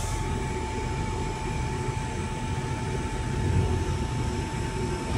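A Chinese diesel heater runs with a steady blower roar and a constant tonal whine, its fuel pump having just kicked in, heard close and continuous without talk.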